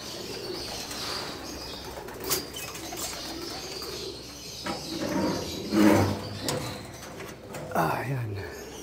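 Racing pigeons flap their wings in bursts as they enter a home loft, with soft coos and a voice talking nearby.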